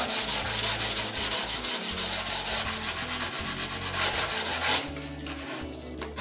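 Rapid rhythmic back-and-forth sanding on melamine edge banding, close and loud, stopping near the end to quiet background.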